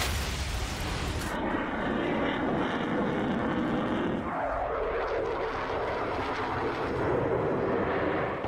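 A fighter jet flying overhead during the Russia–Ukraine war, a loud, steady roaring engine drone that swells and shifts as it passes, with no talking.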